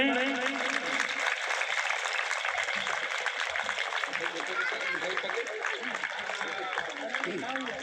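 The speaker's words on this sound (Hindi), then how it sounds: "तालियों से इस्तकबाल करें।" Audience applause welcoming a guest at a National Education Day programme in Garulia, a continuous clatter of clapping with chatter and voices running underneath for the whole stretch.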